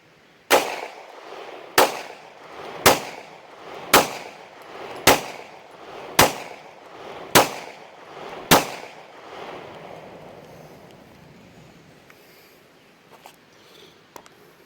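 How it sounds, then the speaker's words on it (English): Eight sharp 9mm pistol shots with 145 grain round nose lead reloads ring out at an outdoor range, evenly spaced about a second apart, loud and close, each followed by a short decaying echo before the scene goes quiet. "I'm shooting the 145 grain round nose lead that I shoot a lot of."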